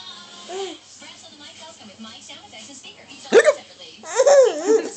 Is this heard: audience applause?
no